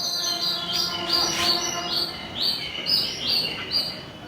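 A water-filled bird whistle imitates a sparrow: a steady stream of bright, warbling chirps, bubbling whistles repeating quickly and continuously, close and clear with no talking.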